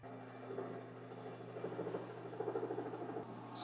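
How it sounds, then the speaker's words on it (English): A helicopter in a scene from the movie Back to the Future Part II, a faint, steady rotor chop with a low drone playing quietly in the background. "What's the helicopter for?"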